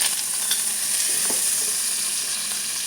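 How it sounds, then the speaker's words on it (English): Butter and grapeseed oil sizzle steadily in a pan, a continuous bright crackling hiss that holds even and close throughout with no talking. "I'll add a little bit of butter to the oil"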